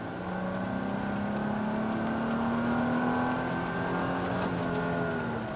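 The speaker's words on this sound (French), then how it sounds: "je sais pas si vous entendez, les amis, le V6 rugir sur la vidéo" A Mercedes CLK 320 cabriolet's V6 engine runs loud and steady, its tone climbing slowly as it revs, the sound continuous and close with no talking over it.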